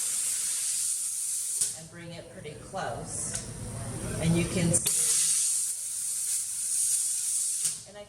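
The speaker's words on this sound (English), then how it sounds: "you'll see this is steam, and we're at like 35 pounds of pressure" Steam cleaner at about 35 psi blasting jewelry, a bright, loud hiss that runs steadily, drops out briefly while a person talks close by, then resumes strongly near the end.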